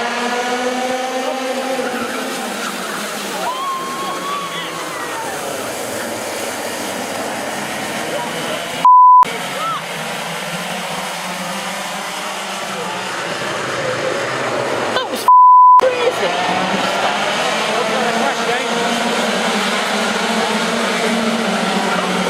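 Racing karts scream past during a race final, engines whining and shifting pitch as they pass, loud and continuous with a couple of short cuts in the sound.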